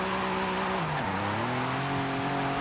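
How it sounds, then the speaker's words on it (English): A car engine revving in fourth gear in Forza Horizon 5, a continuous loud engine drone whose pitch dips, then climbs steadily as the revs build, with no talking. "Fourth gear revs up really, really quickly."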